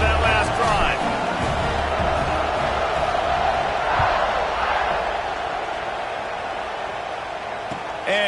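Stadium crowd noise in a football video game, a continuous loud roar of cheering and whooping that holds throughout and swells briefly, with a commentator's voice running over it.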